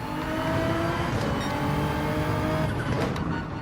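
A car in the Gran Turismo racing game braking hard into a hairpin on the Grand Valley circuit, with a steady loud engine drone and a faint tire squeal toward the end.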